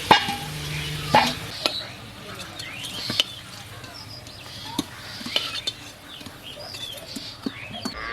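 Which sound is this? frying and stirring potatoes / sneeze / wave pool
frying and stirring potatoes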